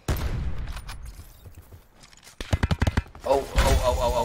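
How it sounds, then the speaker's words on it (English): Call of Duty: Blackout gunfire, a quick burst of sharp shots followed by louder rapid thuds, close and punchy, with a voice speaking over part of it. "Are you shooting at me?"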